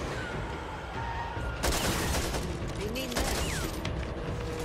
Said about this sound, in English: doing some really good covering fire here